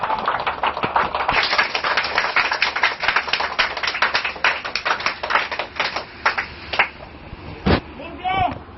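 A church congregation claps for God in a dense, sustained burst of applause that carries on for several seconds, then thins out as a single voice rises near the end.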